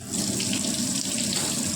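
A kitchen water tap gushes steadily into a sink after being switched on, a close, continuous rushing splash with no voices.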